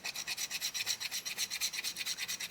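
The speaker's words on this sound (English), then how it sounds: "Push, push, push, really scrubbing that stone away." Soapstone for an owl carving is scrubbed by hand with a rasp, giving a fast, even back-and-forth rasping, about eight strokes per second, close and steady with no talk.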